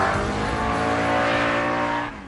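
A V8-powered Triumph TR7 rally car races past, its engine a loud, steady harmonic roar with a touch of tyre noise before fading slightly at the end.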